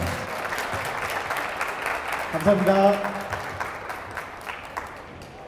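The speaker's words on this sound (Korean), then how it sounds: "좋은 이야기 들려준 우리 변수로 학생에게 박수 부탁드리겠습니다" Steady applause from a campus busking audience for a student speaker, with a brief spoken thanks partway through before the clapping tapers off.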